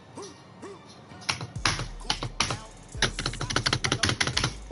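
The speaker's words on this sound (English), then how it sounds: "That's my keyboard, and I finally got it connected." Keys clatter on a computer keyboard in quick, uneven bursts of close, sharp taps, starting after a brief quiet moment with a faint hum.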